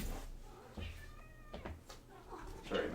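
A house cat meows several times from behind a closed door, muffled and moderately loud against a low room hum.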